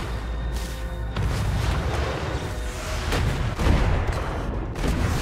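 A nuclear missile strike in the futuristic city-building game Anno 2205 produces a sustained, loud, rumbling explosion with crackling bursts and deep booms rolling on for several seconds.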